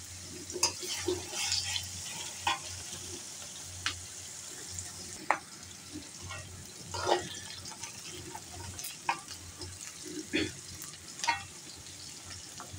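Onions frying in oil in a pan give a steady low sizzle with scattered clicks and light stirring knocks, close and fairly quiet, with no voices.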